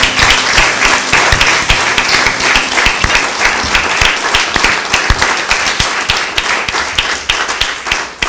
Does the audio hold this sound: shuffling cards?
no